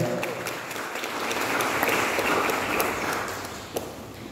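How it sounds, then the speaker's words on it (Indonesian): An audience in a church congregation applauds steadily, a broad wash of clapping that swells slightly and holds, with a few sharper claps standing out. "kita sambut Kakak Alphonse Berto dan kita berikan tepuk tangan yang meriah"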